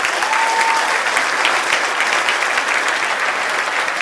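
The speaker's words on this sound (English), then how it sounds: "Big round of applause." Dense, sustained applause from a crowd at a charity auction fundraiser, a thick wash of clapping that stays loud and even from start to finish, with no talk over it.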